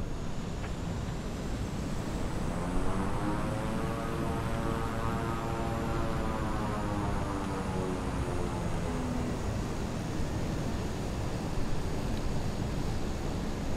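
A King Air 350i turboprop in a flight simulator spools up and rolls for takeoff on runway 10 at Savannah, a steady droning engine hum with a rising, sweeping tone, continuous and moderately loud.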